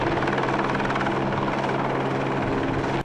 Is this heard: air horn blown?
no